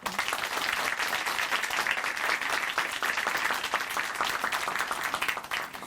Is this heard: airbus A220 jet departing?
no